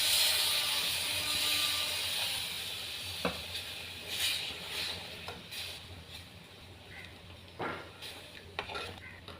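Fish curry masala being stirred in a clay pot for a country-style murrel curry, a steady close sizzle and hiss with a few soft scraping knocks of the spoon against the pot.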